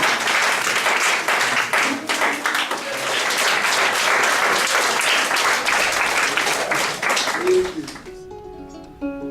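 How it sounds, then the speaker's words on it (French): A theatre audience at a play about Sundiata in Benin applauds the new king, loud sustained clapping that fades out near the end as singing and instruments come in. "Vous pouvez applaudir votre nouveau roi."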